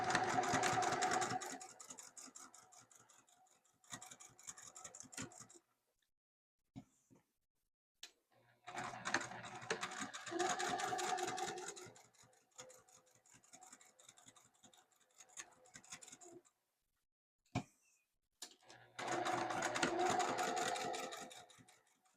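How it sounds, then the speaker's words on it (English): A sewing machine top-stitches around a fabric flap in several loud bursts of rapid rhythmic stitching, separated by pauses with small clicks and handling noises. "And now I have top stitched around the flap."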